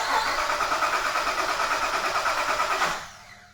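A car engine cranks on its starter during a starter voltage drop test, a loud, steady churning whir lasting about three seconds before cutting off abruptly.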